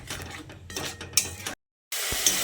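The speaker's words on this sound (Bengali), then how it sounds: "তারপর মশলাটাকে খুব ভালো করে কষিয়ে নিতে হবে।" Spice paste for a katla fish curry stirred and fried in a pan: scraping metal-on-pan clatter with a faint sizzle, close and fairly loud, broken by a brief gap of silence.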